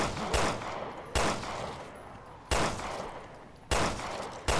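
Four sharp, loud gunshots ring out at uneven intervals in the video game Resident Evil Revelations 2, each followed by a lingering decaying echo.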